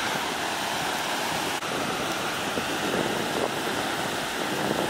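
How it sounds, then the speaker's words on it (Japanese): Ocean waves during a typhoon in Okinawa roll and wash in a continuous broad roar, loud and steady with a surging hiss of churning surf and no voices over it. "だいぶ静まり返った波ですけど"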